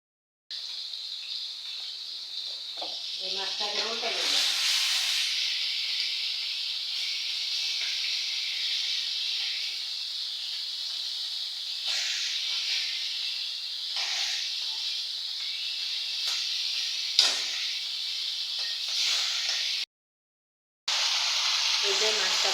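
Curry cooking on a home stove in the morning: a strong, steady hiss of sizzling and steam runs throughout, close and even, with brief speech and a short gap near the end.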